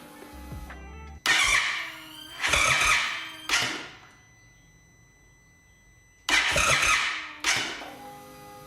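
A cheap Indian Chief motorcycle cranks over with its fuel tank disconnected and primed, in five loud, grinding starter bursts of about a second each, separated by short pauses and a longer gap, without catching; nobody speaks.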